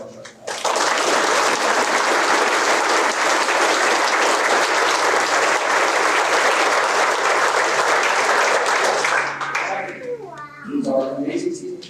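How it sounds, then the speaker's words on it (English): Loud, sustained audience applause fills a graduation ceremony hall for instructor pilots at an undergraduate pilot training class graduation, dense clapping running about nine seconds before fading out as a voice begins speaking. "Please join me with a round of applause for our instructor pilots"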